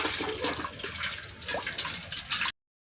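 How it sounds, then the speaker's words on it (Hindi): A cooler motor rigged as a water pump pushes out a strong gushing stream of water, splashing steadily and fairly loud for a couple of seconds before cutting off abruptly. "वाह क्या अच्छा पानी फेंकती है यार मोटर"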